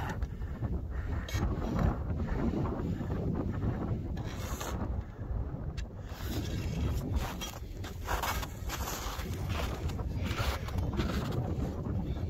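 Strong wind roaring and buffeting the microphone continuously at a lakeside bay, a loud rough rush with no voices.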